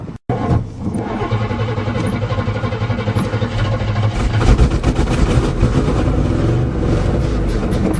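A 1977 GMC 400 truck engine fires for its first start after sitting seven years: a quick crank, then a loud, rough, continuous run up close that swells into a harder rev midway and keeps rumbling.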